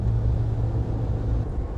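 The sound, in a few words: Suzuki Jimny engine accelerating at full throttle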